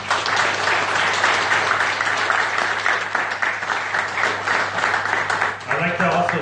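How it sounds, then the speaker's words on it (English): Sustained audience applause fills a football club venue during the launch presentation of a professional futsal league, a steady dense wash of clapping that runs throughout before thinning near the end. "I'd love to give Stephen a round of applause"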